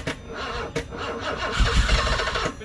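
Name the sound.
BMW E24 6 series car engine starting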